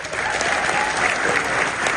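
An audience claps loudly and densely at the grand opening of the International African American Museum, a dense, unbroken wash of applause.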